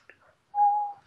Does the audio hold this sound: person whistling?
yes